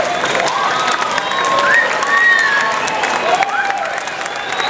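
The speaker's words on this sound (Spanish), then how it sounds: "Un aplauso para ella." Audience applause and cheering for a cosplay contestant at Lima Comics 2011, a lively crowd clapping and calling out while a voice speaks over the noise.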